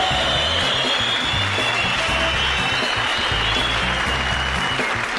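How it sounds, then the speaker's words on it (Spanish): Steady, dense applause from a television studio audience, sustained at an even level throughout. "Para ellos un fuerte aplauso."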